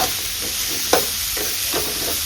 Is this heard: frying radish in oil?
yes